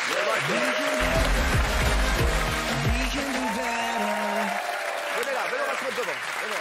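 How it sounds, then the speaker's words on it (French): Loud, sustained applause from a television studio audience fills the whole stretch, with music playing over it. "Applaudissements pour Yacine et Amine"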